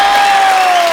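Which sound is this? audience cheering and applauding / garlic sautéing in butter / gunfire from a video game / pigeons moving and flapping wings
audience cheering and applauding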